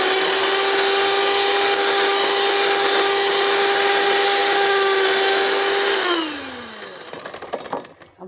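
An electric mixer whips cream and sugar for homemade mango ice cream, a loud, steady motor whir that holds for several seconds, then slows and winds down to a stop, leaving faint clatter.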